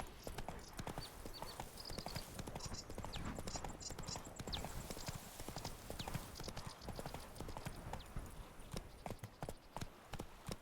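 A horse walks at an even pace in The Witcher 3 video game, its hooves clopping in a steady, quiet rhythm throughout.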